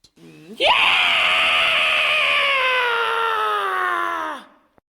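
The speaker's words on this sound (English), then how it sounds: "I have no idea what that scream was." A single loud human scream rises sharply and holds for about four seconds before trailing off, heard alone against a quiet background.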